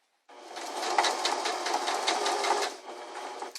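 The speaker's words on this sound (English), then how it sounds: "If you have a machine with an adjustable sewing speed, I suggest using it for your first time." A sewing machine stitches fold-over elastic, starting abruptly after a moment of silence and then running in a steady, loud mechanical whir with a rhythmic needle clatter throughout, no speech.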